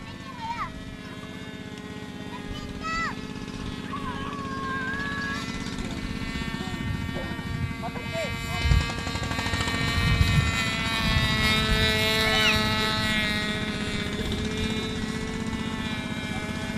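SPAD 21B aircraft landing, a steady broadband propeller-engine drone that grows a little louder toward the middle and holds near and continuous, with a voice speaking over it.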